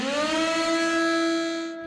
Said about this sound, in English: First I found a Siren sample, pitched it to the correct note, and sped it up.